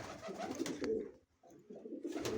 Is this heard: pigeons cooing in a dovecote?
yes